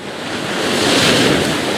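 Big waves breaking and splashing on coastal rocks, a loud swelling roar of surf with wind noise, building into a sustained wash, close and with no talk.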